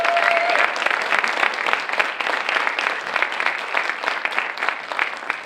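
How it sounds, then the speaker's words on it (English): Sustained applause from an audience at a library reading celebration, broad and steady clapping filling the room for several seconds with no talk over it. "we got a little clap, but can we make some noise?"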